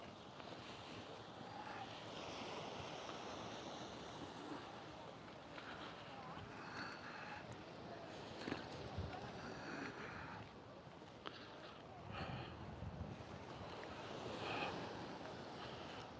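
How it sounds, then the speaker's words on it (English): Waves wash steadily onto a beach at St. John working fishing village, with rushing surf and wind buffeting the microphone throughout. "some nice sounds here of the waves."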